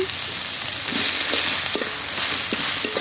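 Fermented fish paste, chepa shutki, frying in a village kitchen pan: a steady hiss of sizzling oil with occasional soft pops and stirring, close and continuous.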